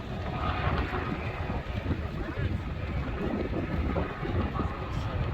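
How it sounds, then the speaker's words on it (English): Wind gusts around parked World War II fighter aircraft at an airshow, a constant rough rushing and buffeting against the microphone that swells and eases throughout. "Wind is blowing the ailerons around."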